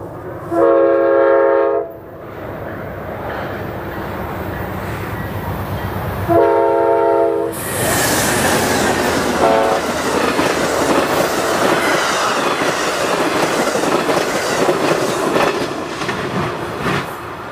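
Amtrak Southwest Chief passenger train rolling on rails, with two loud horn blasts over a steady rushing roar and rhythmic wheel clatter, plus faint wheel squeal, close and continuous.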